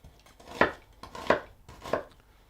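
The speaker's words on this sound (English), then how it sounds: "And we start by dicing the veg." A knife dices a red onion on a board in three distinct, evenly spaced chops, each a sharp, close thud against a quiet background.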